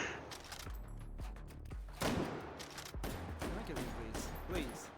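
Video game gunfire crackles in repeated bursts of sharp shots, some in quick volleys and others spaced out, moderately loud against a busy background.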